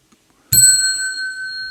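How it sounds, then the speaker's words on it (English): A single bright bicycle-style bell ding rings out sharply after a brief quiet moment, then its clear metallic tone lingers and slowly decays with no voices. "I'm going to ring the bell"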